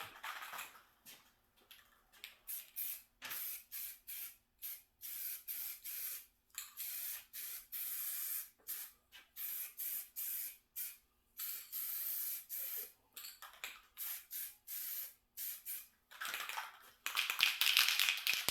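Short bursts of aerosol spray from a paint can lay a first coat on a 1993 Ford Mustang Fox Body coupe, a steady run of hissing passes broken by brief pauses, close and loud, with no talking.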